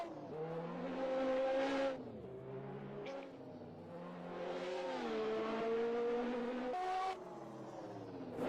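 A Lotus race car in a racing video game laps a modern racetrack, its engine rising and falling through repeated upshifts and downshifts with short pitch drops between gears, loud and close throughout.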